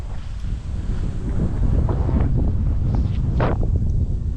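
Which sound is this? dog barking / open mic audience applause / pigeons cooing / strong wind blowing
strong wind blowing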